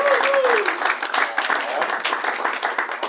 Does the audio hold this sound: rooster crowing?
no